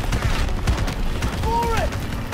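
Gunfire in the World War II shooter game Call of Duty WWII, a short burst of rapid shots and booms amid engine rumble during a vehicle chase, with shouting voices nearby.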